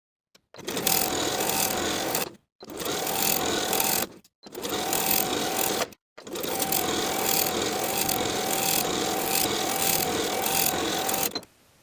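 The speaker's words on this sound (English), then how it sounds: "I'm going to sew close to those front edges of the hoodie from one side to the other." Sewing machine stitching along the front edges of a zip-up cropped hoodie, a loud close mechanical whir running in four bursts separated by short pauses, the last run longest, with no voices.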